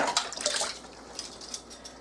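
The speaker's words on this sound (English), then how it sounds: "I lay them like so, right on top of each other." Washed glass canning jars, wide-mouth and small-mouth, are set down and stacked on top of each other, giving light clinks and taps amid dripping water, close and fairly quiet.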